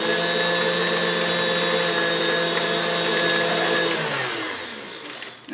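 An electric mixer beating cream cheese frosting for a carrot cake runs with a loud, steady motor whine close by, then slows and winds down near the end.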